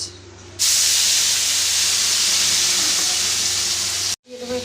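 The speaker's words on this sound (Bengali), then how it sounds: "পেঁয়াজটাকে চার পাঁচ মিনিট ভালো করে ভেজে নেব" Onion paste dropped into hot oil bursts into a loud, broad hiss that holds steady for several seconds, then cuts off abruptly.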